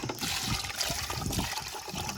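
Water pours steadily into a pot of chicken on a wood-fired stove, a continuous rushing splash with some low clinks underneath, close by.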